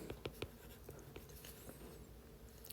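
Chalk or marker strokes on a board while math is worked out in a lecture: a few quick, faint taps and scrapes early on, then sparse soft marks in a quiet room.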